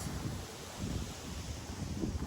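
Strong wind roars across the microphone during an outdoor half-marathon training run, a loud, constant buffeting rumble with gusty swells and no voices.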